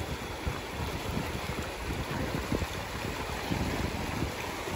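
Cold river water flows steadily outdoors on a trip near Jayanti, a broad, continuous rushing wash with no pauses. Gusts of wind buffet the microphone throughout, and no one speaks.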